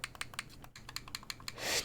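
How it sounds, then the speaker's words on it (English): Bumper buttons on a RIG MG-X wireless game controller clicked repeatedly, a quick run of sharp, light plastic clicks at close range in an uneven rhythm, ending in a brief soft rustle. "Your bumpers are very clicky and very responsive."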